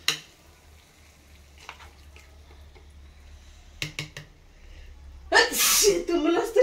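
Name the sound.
sneezing from pungent ridge gourd peel chutney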